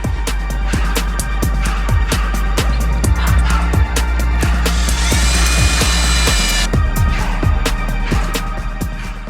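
A power drill whirs in repeated short bursts with sharp clicks and knocks between, close and loud, as screws are driven one after another into the bottom of a pumpkin lantern.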